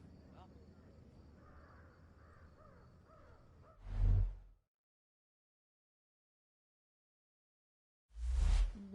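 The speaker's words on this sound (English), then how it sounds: "Hear that, friends? It's the crows." Crows in the Thief video game give two loud, harsh caws, the first cutting in over quiet ambient murmur and the second sounding alone after a stretch of silence.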